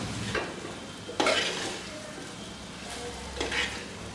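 Masala powder sizzles steadily in a hot pan for Tamil vathal kuzhambu while a spoon scrapes and stirs through it every second or so, close and fairly soft, with no talking.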